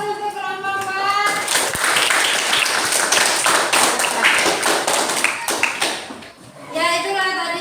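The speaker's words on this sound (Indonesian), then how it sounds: "Ya, aplaus untuk kelompok 4." Classroom applause for a student group after a presentation, a burst of many hands clapping that swells, fades briefly, then picks up again, with children's voices mixed in.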